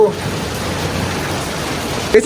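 Steady rain falls throughout, a dense even hiss with no break, fairly close, and a brief sharp sound near the end.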